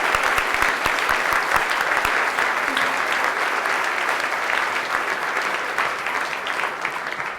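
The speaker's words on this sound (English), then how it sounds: "we want to give them all a round of applause for the work that they're doing" Large audience at a political leadership council event applauding, with dense, lively clapping that starts strong and slowly tapers toward the end, heard alone without speech.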